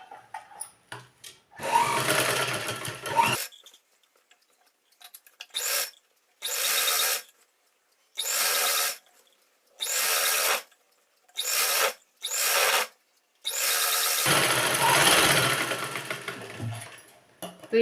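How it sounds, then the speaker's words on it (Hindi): Sewing machine stitching the legs of a ladies' trouser, running in a long loud burst, then several short, evenly spaced bursts separated by silence, and ending with another long run, close up with no speech. "तो इस तरह से दोनों पैर की हमने सिलाई कर ली है"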